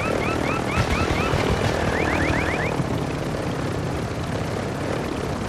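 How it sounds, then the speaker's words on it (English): Helicopter flying in a battle royale video game, a loud, continuous rotor and engine drone filling the whole clip, with brief chirping warning tones near the start. "Someone's shooting at my helicopter."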